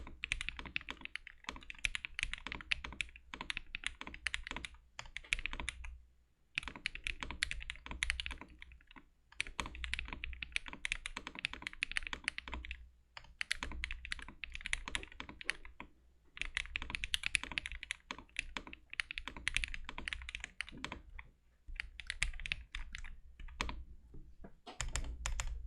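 Mechanical Mr. Suit keyboard typed on steadily at close range, fast clacky keystrokes in bursts separated by short pauses, with no voices.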